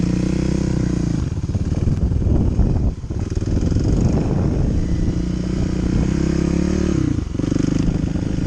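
A Honda Hawk 250 motorcycle ridden by a learner practicing clutch control at Cravens in Pitkin, Louisiana, its engine droning loud and close with rising and falling revs and a brief dip mid-run.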